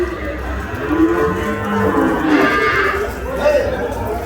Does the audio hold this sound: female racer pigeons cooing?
no